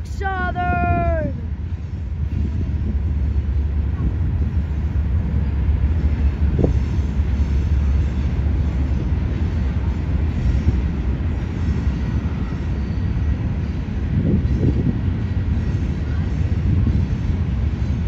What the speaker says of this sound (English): Okay, it's a mixed train.